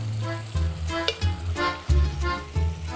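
A glass of water added to a hot pan hisses and sizzles, coming to a boil with a steady bubbling crackle and no voices.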